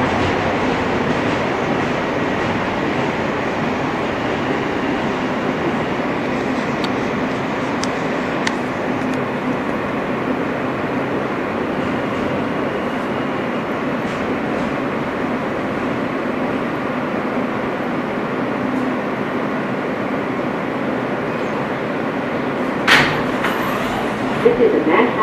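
Interior of an R160 F subway train running on the West End and 4th Avenue lines: a loud, steady roar of rolling wheels and motors throughout, with faint rattles and a couple of brief clanks near the end.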